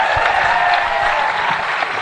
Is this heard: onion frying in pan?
no